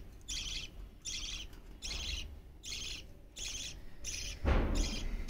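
Pet budgerigars kept indoors chirp in a repeated series of short bursts, roughly one per second, fairly near and clear, ending with a louder, rougher call.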